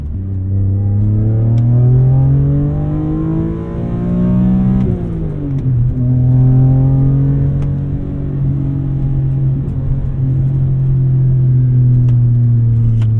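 A BMW E46 M3 engine pulls hard under acceleration while driving, a loud, steady rising drone with one brief dip around a gear change before climbing again, heard alone with no talking.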